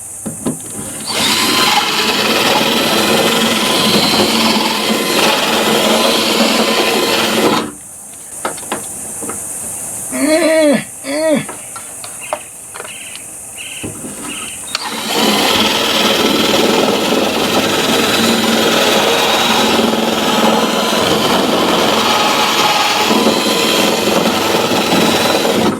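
A power tool reams out a hole while fitting LED lights to a motorcycle trailer, whirring loudly in two long sustained bursts separated by a quieter pause with brief clicks and squeaks of handling.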